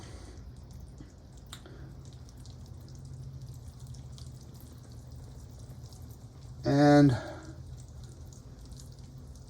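Water poured onto the soil of a potted tropical plant, a short close splashing burst of about half a second that stands out against a quiet room background, with a brief spoken word just before it.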